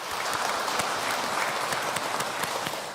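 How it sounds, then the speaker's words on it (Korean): Church members at a Sunday morning service give encouraging applause for their teachers: a sustained round of many people clapping, with individual sharper claps popping out of the continuous crowd noise. "자, 여러분 수고하신 우리 교사를 위해서 격려의 박수 한번 치겠습니다."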